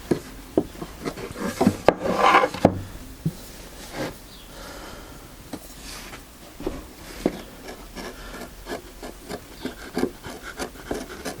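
A sharp hand chisel pares small wood fibres from a tenon in a home workshop, giving soft scraping strokes and light taps at irregular intervals, close and quiet.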